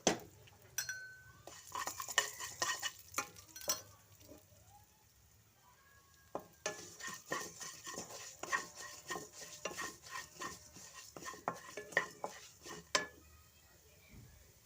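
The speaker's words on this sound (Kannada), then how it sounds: "ಎಣ್ಣೆ ಹಾಕಿದ್ಮೇಲೆ ಅದಕ್ಕೆ ಉದ್ದಿನ ಬೆಳೆ ಹಾಕೋಬೇಕು ಉದ್ದಿನ ಬೆಳೆ ಕೆಂಪಗೆ ಸಂಪಿಗೆ ಹೂವಿನ ಬಣ್ಣ ಬರೋ ತನಕ ಅದನ್ನು ಹುರಿಕೊ ಹುರ್ಕೋಬೇಕು" Urad dal roasting in oil while being stirred, heard as a busy run of light metallic clinks and scrapes of a spoon against the pan, coming in quick bursts with a brief lull in the middle.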